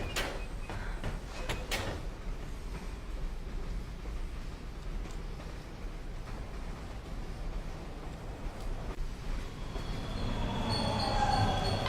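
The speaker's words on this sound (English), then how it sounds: "there's a train turn up on the other track" A train pulls in on a nearby track in Bendy and the Dark Revival, a continuous rolling rumble with sharp metallic clanks early on and a rising wheel squeal near the end, with no voices.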